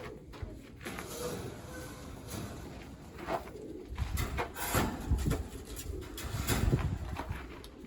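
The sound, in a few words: Birmingham roller pigeons cooing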